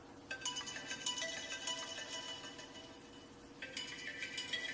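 A ringtone plays from an iPhone 7 that has been frozen in Sprite, a melodic chiming phrase sounding moderately loud, pausing briefly and then starting again, with no talking over it.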